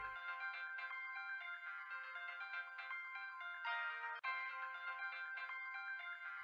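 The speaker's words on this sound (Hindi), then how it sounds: "ये तो प्रिया का फोन है।" A mobile phone belonging to a woman named Priya ringing with a melodic electronic ringtone, a repeating tuneful pattern of bright tones playing continuously and clearly, with a brief cut near the end.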